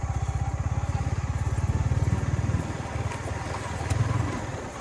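A motorbike bumps slowly along a rough, dangerous road, its engine putting out a fast steady low putter that swells and eases over a few seconds, with no voices over it.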